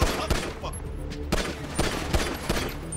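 Bursts of gunfire from a shootout in the video game GTA V on PC, several loud sharp shots spread across the moment with a steady background of game noise and some talk underneath.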